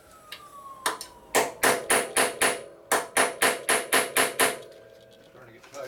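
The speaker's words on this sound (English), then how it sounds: "Now when you tighten this nut down, it will tighten up the fork a little bit more" A nut is tightened on the fork of a Harley chopper. About a dozen sharp metallic ratchet or hammer-like clacks come close and loud in a quick, regular series, with a brief pause midway.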